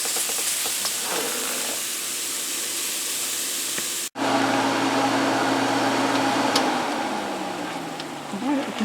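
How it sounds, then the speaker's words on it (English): Portabella mushrooms sizzle and hiss in a hot cast iron skillet, a steady close frying hiss broken by a brief cut, then continuing with a faint hum beneath. "Look how nicely they're browning in this cast iron pan."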